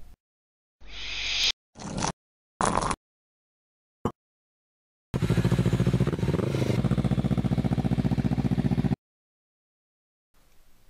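A motorcycle engine cuts in with short bursts, then runs steadily and loudly for several seconds before stopping, with abrupt gaps of silence between.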